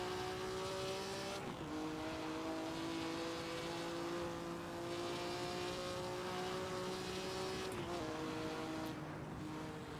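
A race car engine in the racing game Assetto Corsa drones at a steady high pitch during a hot lap, shifting gears twice with brief drops, continuous and fairly close without any talking.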